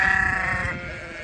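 A sheep bleats loudly and close by during lambing season on a farm, one sustained wavering call that fades slightly toward the end.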